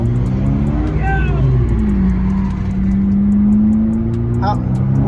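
A 2014 Honda Civic two-door with its muffler deleted idles nearby, giving a loud, steady low rumble with slight wavering while several people talk over it.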